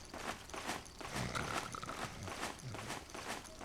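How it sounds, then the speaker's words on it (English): Footsteps in the video game Metal Gear Solid 4: a steady, repeating run of soft steps under a broad noisy game ambience, moderately faint, with no talk. "I'm hearing footsteps."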